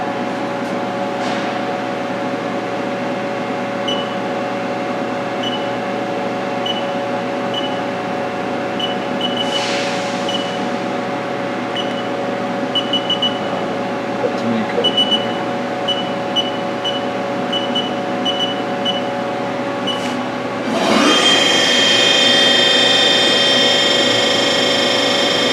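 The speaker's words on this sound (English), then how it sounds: "Spindle running." A Haas ST-30SSY CNC turning center's spindle runs with a steady mechanical whine and hum, faint intermittent clicks over it, then a sudden louder rise in pitch and intensity near the end as the spindle speeds up.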